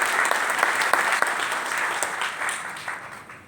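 Audience applause after a motivational classroom-style talk on success principles, dense sustained clapping from a crowd, loud and close, fading slightly toward the end with no speech over it.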